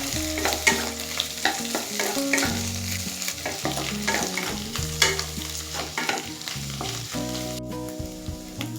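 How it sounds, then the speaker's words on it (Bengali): Grated coconut being stirred into a frying pan for stuffed kakrol, with a close sizzle and repeated scraping strokes of a spatula, no voices. "এবার নারকেল গুঁড়ো মিশিয়ে নেব।"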